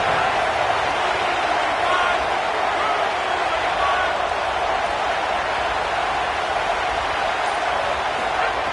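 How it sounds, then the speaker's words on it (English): Crowd roar in a college football video game stadium, a dense, unbroken wall of loud noise with no clear peaks, and a voice talking over it. "This crowd ready to make its presence known."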